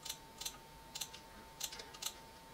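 A password being typed on a computer keyboard, a few quiet, close key taps in small clusters over a faint steady hum, with no voices.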